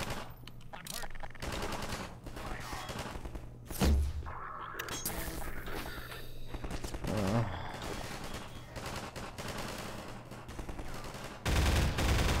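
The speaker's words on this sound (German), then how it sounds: "Die schießen mich von überall ab." Gunfire in the video game Half-Life 2, scattered shots and bursts amid busy game sounds, fairly faint and mixed with other effects across the clip.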